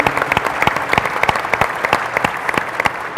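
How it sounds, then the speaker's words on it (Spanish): A seated audience at a national social oversight conference panel in Durango breaks into brisk, dense applause, many hands clapping loudly and evenly for a few seconds. "Le damos un fuerte aplauso"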